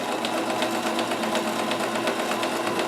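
Kenmore 158.1914 sewing machine running in reverse stitch, a steady close mechanical whir with a fast even needle patter throughout, no voices.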